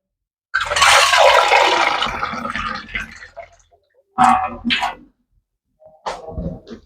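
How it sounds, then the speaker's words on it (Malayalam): Water poured into a cooking pot for a very spicy dish, a strong splashing pour for about three seconds that tapers off, followed by two shorter bursts of pouring, close and loud with no talking. "ആദ്യം വെള്ളം ഒഴിക്കട്ടെ,"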